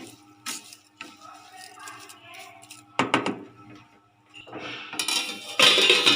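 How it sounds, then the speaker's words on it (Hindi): A lid set down over a cooking pot of mango chutney, giving a couple of sharp metallic clanks and rattles near the end, preceded by softer kitchen clinks and handling, close by. "और अब इसको मैं कवर करूँगी 5 मिनट के लिए"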